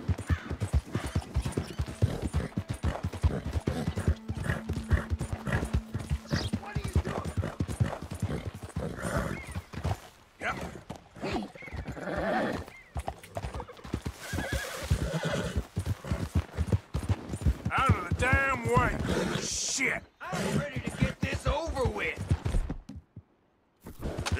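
Horse hooves clip-clop steadily in the Red Dead Redemption video game, joined by whinnies and neighs from a spooked horse, with creaking tack and game sounds mixed in throughout.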